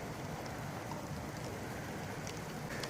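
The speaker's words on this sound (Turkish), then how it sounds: "Yağmur başladı" Steady, soft patter of rain with faint scattered drips, even and continuous throughout, with no voices, outdoors where pigeons are being flown.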